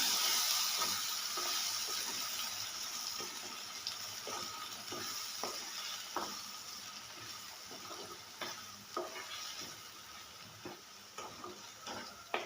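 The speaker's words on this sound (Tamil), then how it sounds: "இந்த விழுது நல்லா கத்திரிக்காயில் போய் சாடுற அளவுக்கு ரெண்டு கிளறி கிளறிக்கலாம்" Spice paste is stirred into brinjal gravy frying in a pan, giving a soft steady sizzle with scattered clicks and scrapes of a spoon against the vessel, fairly close and with no talk.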